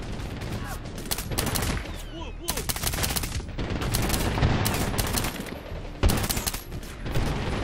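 Bursts of automatic gunfire and single shots in the video game Medal of Honor Warfighter, loud and repeated in rapid volleys throughout the scene, with no talking over it.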